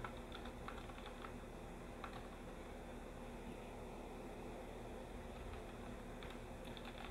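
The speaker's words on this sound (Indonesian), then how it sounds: "kemudian saya bisa ketik" Keyboard typing, light quick keystrokes in a few short bursts, faint over a constant hum of air conditioning or a fan.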